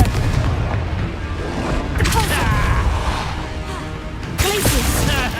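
Explosive Confringo spell blasts from a Harry Potter video game battle, booming bursts with creaking, crackling debris, with a voice talking over the game sounds.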